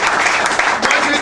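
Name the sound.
audience applause for the minister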